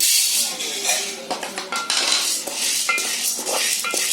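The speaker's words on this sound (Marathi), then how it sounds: "मी आपली डाळ भाजून घेते" Lentils for chakli flour dry-roasting in a pan, with steady metallic scraping and clinking of a spatula against the pan, continuous and close, with brief stirring strokes throughout.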